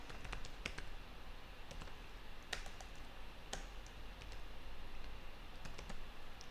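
Soft keys tapped on a computer keyboard in quick irregular clusters and single clicks over a faint steady room hiss, with no talking.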